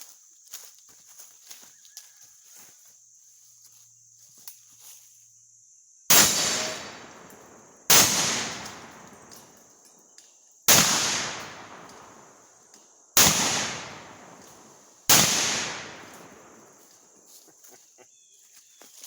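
An SKS Paratrooper rifle fires 7.62x39 rounds at an outdoor range, five loud, sharp cracks spaced a couple of seconds apart, each ringing out and decaying, over a steady high whine and faint background noise.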